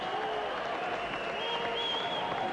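Crowd applause at a squash match, a sustained, fairly distant wash of clapping with a voice speaking over it.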